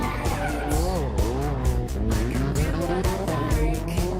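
A rally car drives hard through a bend at the Rhône-Charbonnières rally, its engine roaring loud and close with shifting revs and tyre squeal, under a steady crowd and ambient din.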